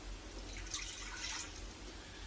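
Water poured into a bowl to start pizza dough, a soft, brief splashing trickle heard up close and alone for a couple of seconds.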